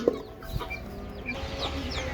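Chickens clucking softly and intermittently close by, with short chirpy calls over a quiet outdoor background.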